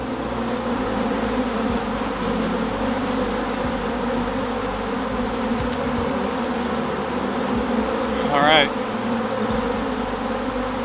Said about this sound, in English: See if we can get these bees off of us.